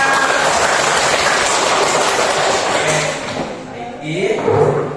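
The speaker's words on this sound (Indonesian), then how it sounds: "Tepuk tangan." A class of schoolchildren claps hands together, producing a dense, steady wash of clapping for about three seconds that then fades as voices take over.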